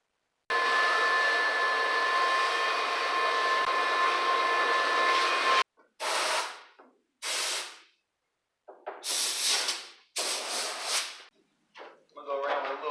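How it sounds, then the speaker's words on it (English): Cut speaker holes in a 2020 Yamaha Wolverine X4 get cleaned out. A vacuum runs steadily for several seconds, then compressed air hisses in a series of sharp, separate bursts of varying length. "I'm going to vacuum those out and blow everything out with some compressed air"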